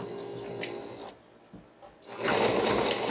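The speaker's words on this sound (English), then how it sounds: "I'm just going to go to a straight stitch and stitch some" A domestic sewing machine runs a straight stitch across a quilt block, whirring in short bursts with brief pauses between, close and without talk.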